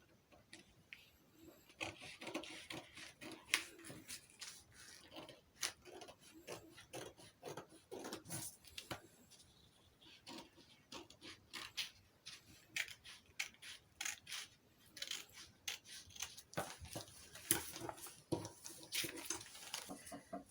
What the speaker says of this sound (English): Now it's time to use my scissors and cut my stencil out.